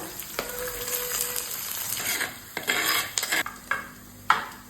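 Garlic, green chillies, sliced onions and shallots frying in a pan for a Kerala snakehead fish curry, a steady close sizzle broken by stirring scrapes and clinks of a utensil against the pan.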